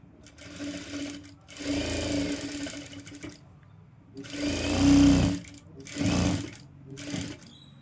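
A sewing machine stitches the front neck of a golden blouse in several loud bursts of running motor and needle, separated by short pauses.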